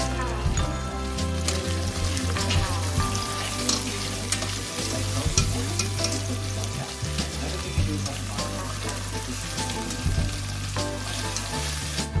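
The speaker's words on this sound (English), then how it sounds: "just kind of moving them around the pan will help lift all those brown bits off the bottom" Sliced onions and browned meat sizzle steadily in a pan, with a constant loud frying hiss and intermittent scraping and stirring clatter as the food is pushed around, no talking.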